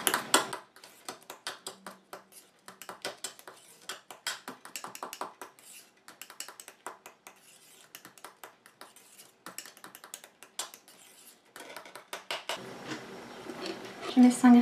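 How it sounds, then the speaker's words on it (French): A spoon clinks and scrapes against a bowl while homemade after-sun lotion is mixed, giving a steady run of quick, close ticking taps. "Et je viens mélanger."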